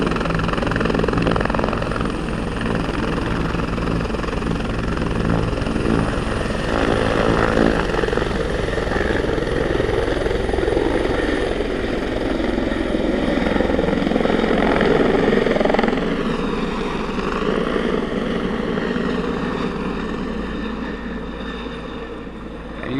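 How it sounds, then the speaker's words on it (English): A Bell helicopter of the Los Angeles County Fire Department lifts off from a grass patch during a patient airlift in Valencia, its rotor and engine roaring loud and steady throughout, buffeted by heavy wind rumble, the pitch shifting as it climbs. "a Bell helicopter from the Los Angeles County Fire Department, lifting off from that grass patch"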